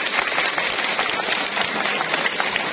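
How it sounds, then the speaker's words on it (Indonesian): Dense, steady applause from an audience at an 81st anniversary celebration of the Orhiba organisation in Buleleng, Bali, with many hands clapping continuously at an even loudness throughout. "Tepuk tangan buat beliau."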